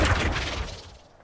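The Flipendo spell in the video game Hogwarts Legacy goes off as a loud burst of blast and debris that fades out over about a second, with nothing else over it.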